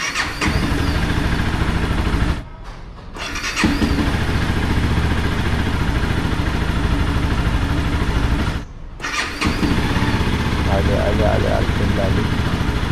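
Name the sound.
motorcycle engine idling after cold start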